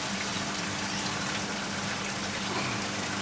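Water gushes steadily through tubing on a reef aquarium build, a constant broad hiss of flowing water, even and unbroken, close by with no voices.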